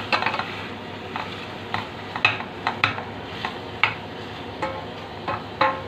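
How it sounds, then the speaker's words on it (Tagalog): A utensil stirs pork sinigang in a pot, with repeated knocks and scrapes against the metal at uneven intervals over a low background hum, close by, with no speech. "At haluin ulit."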